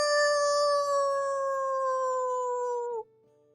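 A person imitates a werewolf howling at the moon: one long, loud, sustained tonal howl held steadily for about three seconds before cutting off abruptly.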